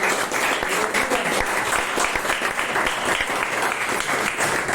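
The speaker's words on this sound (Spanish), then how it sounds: "un fuerte aplauso para los hermanos" Strong, dense applause from a church congregation honoring the brothers, a steady crackling wall of clapping that fills the room without pause.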